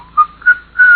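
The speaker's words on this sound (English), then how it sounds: "stop that whistling now" A person whistles a short tune of three bright, clear notes, each held briefly with gaps between, the last one sustained, close and alone.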